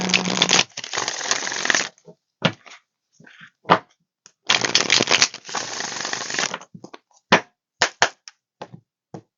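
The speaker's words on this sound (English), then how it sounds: "Do 3 more shuffles." Tarot cards are riffled and shuffled in two long rustling bursts, followed by scattered taps and flicks as they are squared up, close and crisp.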